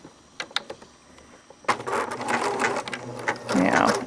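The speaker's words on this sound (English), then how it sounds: "what I'm going to do is do some zigzag stitches so that the needle, when it comes over to this side, is running right off the edge of the fabric" A sewing machine stitches a zigzag along the edge of fabric, its rapid mechanical whirring and needle clatter starting after a few soft clicks and continuing close and fairly loud.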